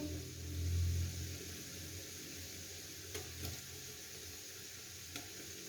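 Quiet, steady sizzle of meat frying with garlic in a pan, with a couple of faint clinks and stirring sounds and no talking.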